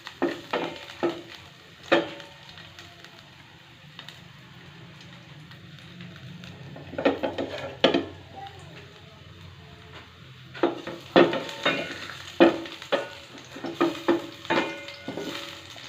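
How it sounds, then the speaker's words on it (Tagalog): Onion and garlic sautéing in oil for pork kaldereta, a soft sizzle with intermittent stirring clatter and scraping in bursts, fairly quiet and close. "Gisa na natin yung ating sibuyas bawang."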